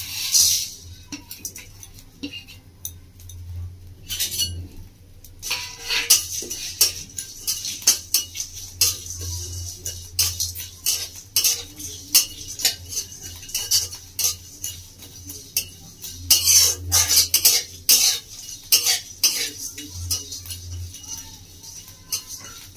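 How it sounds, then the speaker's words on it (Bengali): Coriander, kasuri methi and two dried red chillies dry-roasted in a pan for Bengali-style black urad dal: irregular metallic clinks and scrapes of a spatula against the pan, some close and sharp, with quieter stretches between. "এটাকে আমি ভালো করে শুকনো খোলায় ভেজে নেব"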